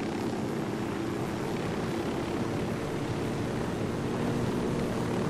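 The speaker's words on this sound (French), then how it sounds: "ils envoient direct un hélico direct où je suis comme par hasard" Helicopter rotor and engine drone in the Ghost Recon Wildlands video game, a steady loud broadband roar with low thumping that holds constant throughout, with no voices.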